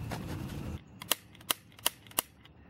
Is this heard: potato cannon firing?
yes